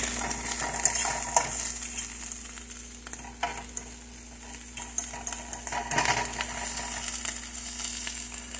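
Crushed red peppers, purple onions and garlic frying in a pan for a tomato sauce, a steady close sizzle with intermittent stirring scrapes and faint utensil clinks, no talking.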